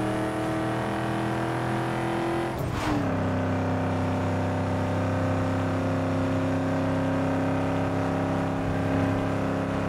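An SUV engine drones and revs steadily in a highway-track race in Need for Speed: Underground 2, with a loud continuous motor tone and a brief whooshing swell partway through.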